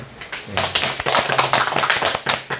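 A small group at a meeting claps together in a brisk burst of overlapping hand claps, close and fairly loud, lasting a couple of seconds with no talk over it.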